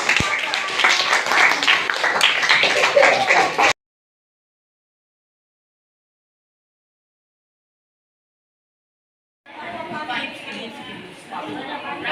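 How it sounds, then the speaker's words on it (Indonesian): Applause and chatter from a classroom full of people, loud at first, then a silent gap before clapping and voices return. "Kasih tepuk tangan buat teman-temannya."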